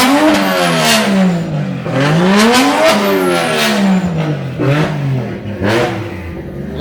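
A Toyota Tacoma drift pickup with a swapped-in 1JZ engine revs hard several times, each rise and fall in pitch loud and close, with a rattling edge between the blips.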